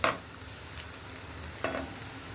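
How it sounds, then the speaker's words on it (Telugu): Vegetable manchurian balls roast in oil in a pan, giving a steady close sizzle and frying hiss. A couple of brief scraping stirs at the start and again near the end rise above it. "ఇలా బాగా రోస్ట్ అవ్వాలి."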